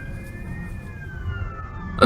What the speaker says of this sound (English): Ambulance trying to get his way through.